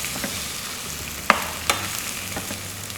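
Sweet tomato chutney being stirred in a pan, Bengali style, with a soft steady sizzle and a couple of sharp spoon scrapes against the pan, close and alone.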